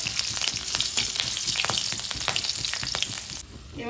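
Four slit green chillies frying in hot oil with tempering spices in a pan, a steady loud sizzle with scraping stir strokes throughout, easing off near the end.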